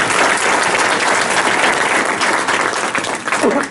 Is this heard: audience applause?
yes